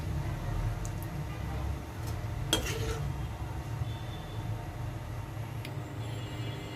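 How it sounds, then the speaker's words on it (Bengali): A serving spoon scrapes and clinks against a pot as eggplant curry with potato and shrimp is scooped into a bowl, with one sharper metallic knock standing out over a steady low kitchen hum. "বেগুনের তরকারিটা বাটিতে উঠিয়ে নিচ্ছি।"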